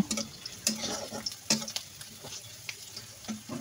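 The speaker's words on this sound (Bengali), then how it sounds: "তেলটা গরম হয়ে গেলে আমি পেঁয়াজ রসুন দিয়ে পেঁয়াজ রসুন ভালো করে ভাজি করে নেব" Onion and garlic fry in oil in a wok, a quiet sizzle broken by several sharp spatula clinks and scrapes as the pieces are stirred.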